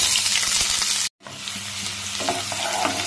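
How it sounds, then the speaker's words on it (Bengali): Chopped onion fries in mustard oil with bay leaf and whole garam masala in a kadai for a jackfruit curry. A steady, fairly quiet sizzle breaks off for a moment, then returns with soft stirring clinks and no talk. "এবার কড়াইতে বেশ খানিকটা সর্ষের তেল দিয়ে তেলের মধ্যে তেজপাতা, গোটা গরম মশলা দিয়েই আমি কুচনো পেঁয়াজটা দিয়ে দিলাম।"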